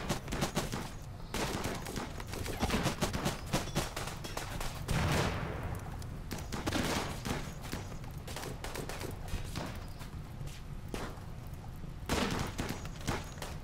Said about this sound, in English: it's actually really good for shooting in the midst of a group like this